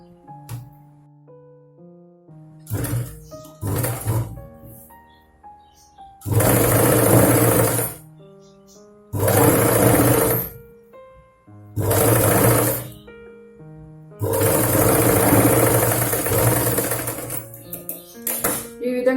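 A sewing machine stitches a Punjabi dress, running in four loud sustained bursts of a few seconds each, separated by quieter gaps with faint handling sounds and a background tone.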